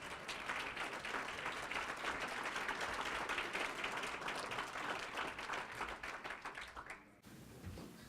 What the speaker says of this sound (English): Come on, give them a round of applause.